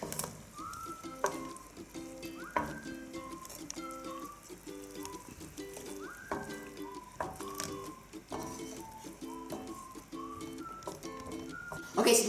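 Wine reducing and sizzling in a chicken pan during deglazing gives a constant fry hiss with occasional stirring clatter, while a pigeon coos repeatedly in the background.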